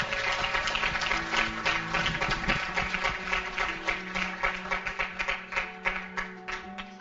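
Audience at a revival meeting in Latin America applauding steadily, a dense wash of clapping that slowly thins toward the end with little talk.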